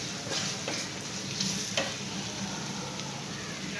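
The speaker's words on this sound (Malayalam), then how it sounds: "ഇനി ഇത് നമുക്കൊന്ന് ഇളക്കി കൊടുക്കാം" Coriander and turmeric powder stirred in a pan, heard as a continuous soft sizzle of frying with light scraping strokes of a spoon, close and steady, with no talking.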